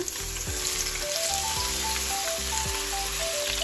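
Shrimp frying in hot oil in a pan for lemon garlic shrimp pasta, a steady close sizzle with bursts of crackle and occasional scraping stirs, continuous and loud.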